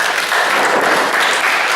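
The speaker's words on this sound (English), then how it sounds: "Right, let's give these people a big hand clap for" An audience claps for debate candidates at a council representative debate, a short, dense burst of applause filling the room.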